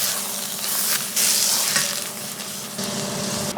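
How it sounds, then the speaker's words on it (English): Tomato paste and meat fry in a pan for a soup, giving a steady, close sizzle with small crackles that swell and ease over a few seconds, with no talking. "the goal here is to also cook this paste up with the meat"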